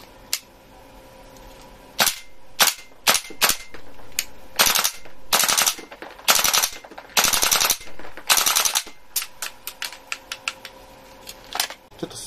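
A WE AK74 gas blowback airsoft rifle fires in loud close bursts and single shots, sharp cracks with the bolt cycling, separated by short pauses.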